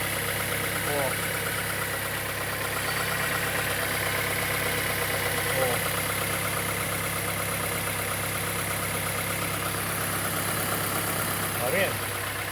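A Fiat Fire 1.0 gasoline engine idles steadily up close with a constant hum and a faint, rapid ticking running through it.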